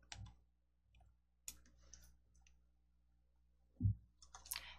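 Sharp computer mouse clicks, a handful scattered irregularly across a quiet stretch, with one louder click near the end and faint light clatter between them.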